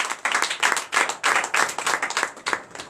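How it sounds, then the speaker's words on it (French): A church congregation at a night deliverance and prophecy service claps in loud, rhythmic bursts, roughly regular beats of collective hand claps close by, with no talk over them. "Donne l'acclamation à Jésus."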